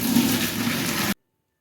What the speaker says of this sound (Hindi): अब बस इसको स्ट्रेन कर लें।